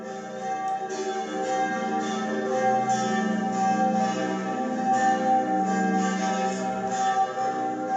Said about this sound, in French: ces cloches ne sont pas d'ici, mais elles sont d'un petit village d'Alsace